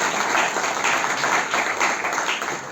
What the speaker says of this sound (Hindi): प्रोफेसर जासिम मोहम्मद के लिए आप जोरदार तालियां बजाएं।